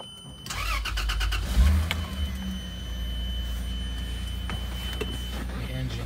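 A 1997 Toyota Land Cruiser engine cranks with a quick burst of rapid starter clicks, catches with a loud low roar, then settles into a steady idle.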